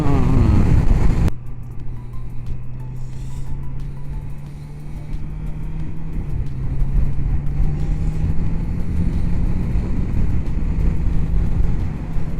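A 2022 Honda CBR650R motorcycle riding on the road, its engine a steady low drone with a slowly rising pitch under constant wind rush, heard close and continuous with no talk.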